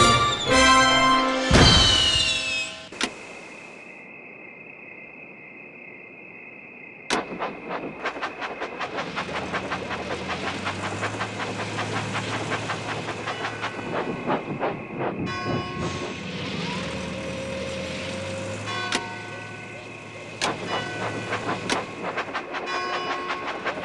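Small toy train clattering along its track with a steady clicking rhythm, bright electronic chimes and a brief whistle, accompanied by upbeat game music, in the video game Thomas & Friends: Magical Tracks.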